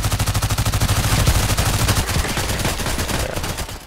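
A Magpul PDR-C submachine gun fires in the shooter game Contract Wars, a loud, close, continuous rapid-fire stream of shots in a steady rhythm lasting the whole moment.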